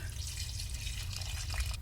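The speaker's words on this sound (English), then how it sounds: "I'm going to add in 8 more cups of water if the pot will hold it" Water runs steadily from a tap into a cooking pot for soup with boneless, skinless chicken thighs, a continuous hissing splash that holds at an even level throughout.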